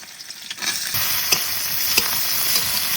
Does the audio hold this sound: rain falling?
no